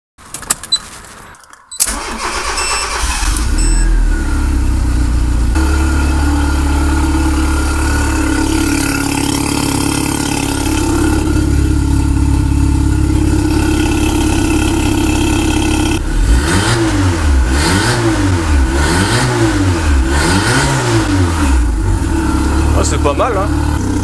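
A car engine cranks and fires after a couple of sharp clicks, then settles into a steady idle with the exhaust valve closed, later rising and falling through several rhythmic revs, loud and close throughout.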